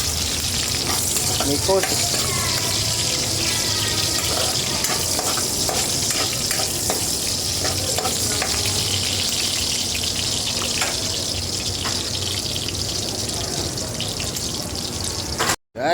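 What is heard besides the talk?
garlic and onion frying in a pan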